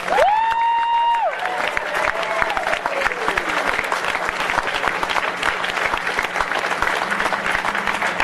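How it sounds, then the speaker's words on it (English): Convention crowd at a furry fandom gathering breaks into loud, sustained applause with cheering, preceded by a brief whistle-like tone and a trailing whoop over the steady clapping. "give them a round of applause for roaming around"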